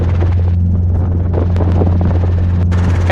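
A Robinson R22 helicopter in flight gives a loud, steady drone of rotor and engine that continues without pause, heard up close from inside the cabin.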